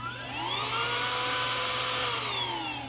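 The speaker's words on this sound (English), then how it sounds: "This is the Bissell model number 2986, but it's this teeny little handheld vacuum." A small Bissell model 2986 handheld vacuum runs in a steady, moderately quiet whine, spinning up and holding a constant tone for a few seconds without any talk.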